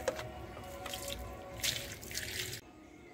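Water splashes and drips over potted plants on a cleaned rooftop, a soft steady trickle with scattered brighter spatters, fairly close and moderately quiet, ending abruptly.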